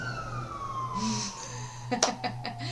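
An emergency vehicle siren passes outside, its wailing tone sliding downward at moderate volume, followed by a few sharp clattering knocks nearby.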